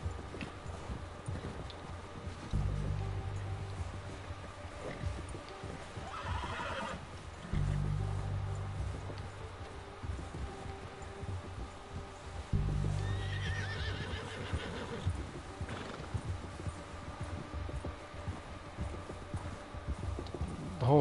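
A horse whinnies loudly several times at regular intervals, while heavy hooves plod steadily and muffled through snow underneath.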